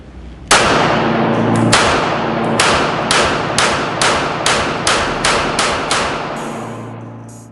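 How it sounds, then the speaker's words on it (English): Pistol shots from a Springfield Armory Hellcat .380 ring out at a range: one sharp report, then a steady string of about ten more close, loud cracks in quick rhythm. "See if this is a more pleasant shooting experience."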